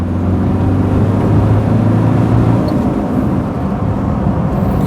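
A Ford Escort Mk6 with a 1.8 turbodiesel engine is driving over a broken road, giving a loud, steady engine drone and road rumble throughout, with no talking.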